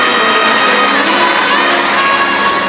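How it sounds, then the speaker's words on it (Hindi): Dense, loud applause mixed with cheering from a large audience at a Hindu religious katha gathering celebrating Tulsi Jayanti, a steady unbroken roar lasting the whole moment. "एक बार जोरदार ताली से"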